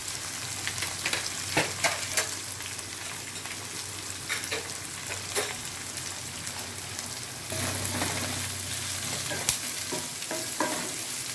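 Small and large onions frying in a pan for a Chettinad prawn gravy, a continuous close sizzle punctuated by irregular scrapes and knocks of a spoon stirring against the pan.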